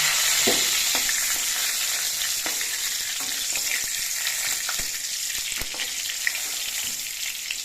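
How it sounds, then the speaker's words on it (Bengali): Pieces of pointed gourd (potol) fry in hot oil with a steady, hissing sizzle, punctuated by occasional light clicks and scrapes of stirring, with no voices. "বাকি পটলগুলো ভেজে নিচ্ছে"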